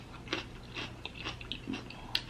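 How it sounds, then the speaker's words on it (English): Quiet, close chewing and crunching from someone eating a seafood boil with king crab, lobster, snow crab and potatoes, with scattered soft bites and mouth sounds and no talking. "Why am I chewing that?"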